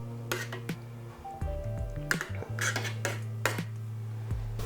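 A spoon scrapes and clinks against a lasagna dish while evening out a layer of white sauce, soft close taps and smears over a steady background hum.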